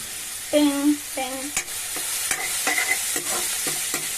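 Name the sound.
capsicum being stirred into bottle gourd curry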